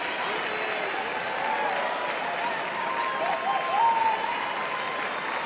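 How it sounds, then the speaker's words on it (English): A packed arena crowd at the Westminster dog show cheers and applauds for a dog named Bean, a dense, steady roar of clapping and cheering that holds at the same loud level throughout, with a brief swell near the end. "Oh, the crowd loves Bean. Chanting his name already."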